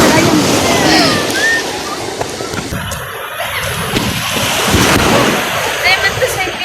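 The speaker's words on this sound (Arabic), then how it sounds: "زي ما انتم شايفين الموج عالي جدا" High sea waves at an open beach splash and surge in repeated bursts, loud and close, with broad wash and spray throughout and voices talking over the surf.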